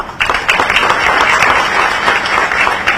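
Loud, dense applause from an audience at a government program in Chhattisgarh, starting abruptly and sustained evenly from a crowd close by, with no talk over it.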